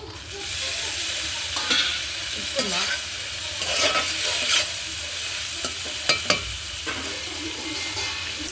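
Onions fry in a pan over a village-style wood-fire stove, a continuous close sizzle broken by intermittent scrapes and clinks of stirring, with no talking.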